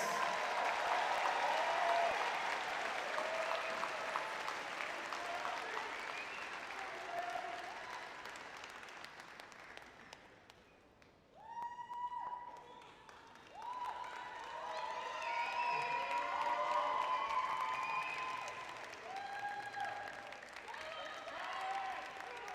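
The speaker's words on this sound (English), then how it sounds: "let's have another big round of applause for our class of 2026" Big round of applause for the graduating student-athlete class at a university graduation celebration, a long wash of clapping and cheers that dips briefly midway, then swells again with voices through it.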